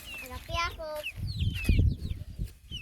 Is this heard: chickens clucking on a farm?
yes